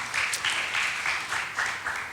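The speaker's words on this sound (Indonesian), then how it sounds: "Kita beri tepuk tangan buat Tuhan Yesus yang baik." Applause from a church congregation at a Sunday worship service, a steady wash of many hands clapping close and loud for about two seconds with a gently pulsing rhythm and no talk over it.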